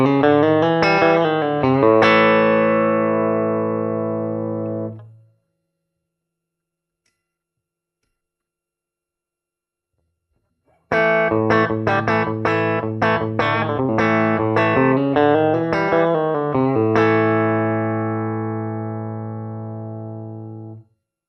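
Electric guitar played through a Two-Rock Studio Pro 35 amp with spring reverb: bright chords and picked notes that ring out and fade, a pause of silence, then more strummed playing.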